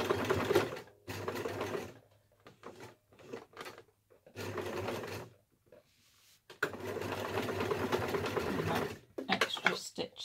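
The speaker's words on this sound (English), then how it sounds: "just sew those, go up and down, and then slightly angled." A sewing machine runs in several bursts of stitching on a sewing caddy pocket, its steady motor whir starting and stopping between short pauses, close and fairly loud, with a voice talking in the gaps.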